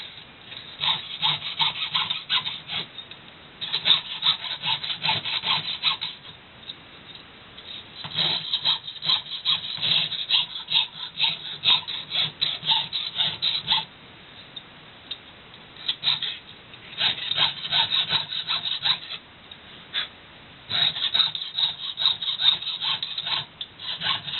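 A fine-toothed hand saw cuts through copper in repeated bursts of rasping back-and-forth strokes, close and steady, with brief pauses between runs of sawing.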